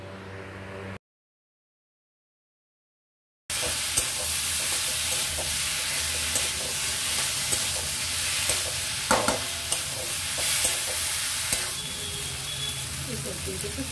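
Fried potatoes and kundru being stirred with spices in a pan, a loud steady sizzle with scraping and clinking of the spoon, close up, after a short silent gap at the start.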